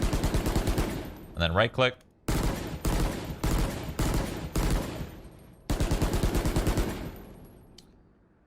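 A budget rifle in Valorant fires in rapid automatic bursts, several loud, close sprays separated by short pauses, while someone speaks briefly between them.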